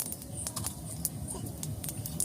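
Cumin seeds tempering in hot oil in a pan, giving a faint, irregular crackle and pop of spattering over a soft sizzle.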